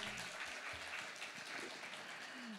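Applause from an audience after a case-study presentation at an electronic document industry event, steady clapping from many hands, quiet and distant throughout.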